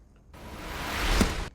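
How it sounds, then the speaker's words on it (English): A swoosh effect in a rock song production rises from silence as a broad, airy whoosh that swells steadily, peaks with a brief low thump, then stops abruptly about a second later. "Same swoosh. Same one, identical to this one"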